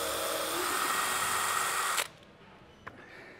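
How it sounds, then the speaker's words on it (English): A power drill fitted with a rose countersink bit whines steadily at close range for about two seconds, then stops abruptly, followed by a single sharp tap. "I think is good is to use a countersink bit. In fact, I think this is a rose countersink"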